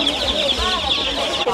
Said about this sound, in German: Da seht ihr jetzt die kleinen Hühner und sowas da